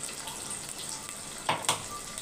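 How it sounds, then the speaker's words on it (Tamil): Onions half-sautéing in a pan for pakoda kuzhambu, a soft continuous sizzle close by with two brief louder scraping stirs near the end. "இந்த குழம்புக்கு வந்து வெங்காயம் பாதி வதங்கினா போதும்"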